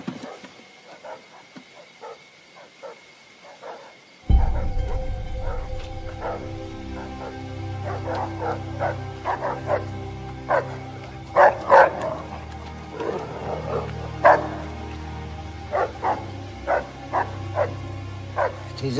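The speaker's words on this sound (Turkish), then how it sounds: "Teyze, köpeklerin çok sinirli." Several dogs bark in sharp, repeated bursts after a quiet start, some yelping, with a low engine-like hum running underneath.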